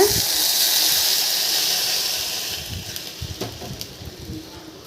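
A loud hiss and sizzle as water hits a hot pan, fading gradually into softer bubbling and light clatter.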